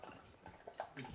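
Water is poured into a non-alcoholic cocktail mixture, a short soft splashing and gurgling trickle heard close and alone.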